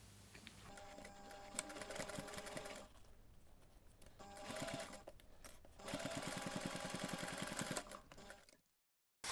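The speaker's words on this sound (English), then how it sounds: "I'm going to top stitch close to that folded edge, making sure I catch the fabric underneath" Sewing machine top stitching along the folded edge of a fabric coin pouch, a steady rapid needle chatter running in several bursts with brief pauses between them, close and fairly loud, no talk.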